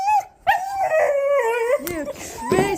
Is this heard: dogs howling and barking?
yes